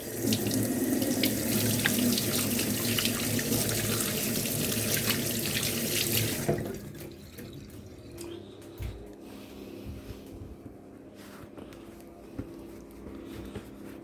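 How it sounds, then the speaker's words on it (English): A kitchen sink tap runs hard for hand washing, a loud close gush of water that cuts off partway through, leaving quiet drips and small handling sounds with no talk. "Just gonna wash our hands."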